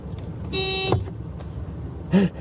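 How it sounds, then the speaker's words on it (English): A single short car horn toot rings out near the end, following a brief electronic tone, with faint street noise underneath. "She said honk the horn."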